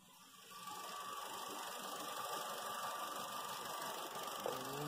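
A Vauxhall Corsa engine, running rich, idles steadily at moderate level with a constant low hum and faint whine throughout, and no voices over it.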